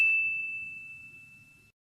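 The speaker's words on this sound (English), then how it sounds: "ring the bell for notifications" A single clean notification-style ding strikes at once and rings out as a steady tone that slowly fades over under two seconds, faint and alone.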